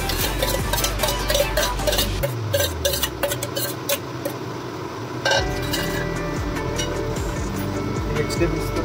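Fried vegetables tipped into a pan of wheat pasta seasoned with pepper powder and stirred, giving close scraping and metallic clinks of utensil against pan that run steadily throughout.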